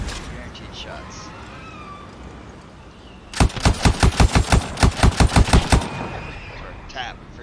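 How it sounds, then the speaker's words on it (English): Rapid gunfire in the video game Anthem: a burst of about fifteen evenly spaced, loud shots over roughly two and a half seconds, set against quieter game ambience with a brief voice. "Who said you can shoot at me like that?"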